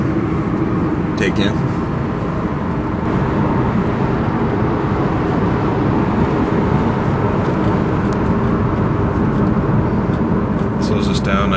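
2003 Mitsubishi Eclipse rolling downhill on a mountain road: a steady, loud broadband rumble of road and engine noise throughout, with a brief voice heard faintly over it.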